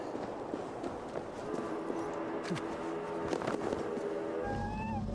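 A cat meows faintly in the video game Assassin's Creed Valhalla, a few short rising calls near the end over steady game ambience with soft footsteps and rustling.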